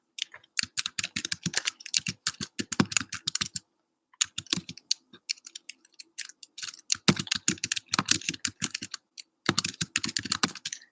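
Rapid keyboard typing in several bursts separated by short pauses, close and crisp, with no voices.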